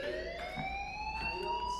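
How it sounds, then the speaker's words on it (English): A school fire alarm sounds in the video game Life Is Strange as a continuous, steady electronic wail with a slowly rising pitch, loud and close throughout, with no talking. "Hey, do you hear that fire alarm?"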